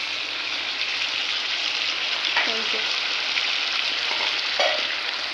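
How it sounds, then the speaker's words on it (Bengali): Chicken being sautéed (kosha) in a pan gives off a continuous, even sizzle, broken by a few faint spoon scrapes and clinks near the middle and toward the end. "তো এই যে দেখো কষানো হচ্ছে চিকেনটা।"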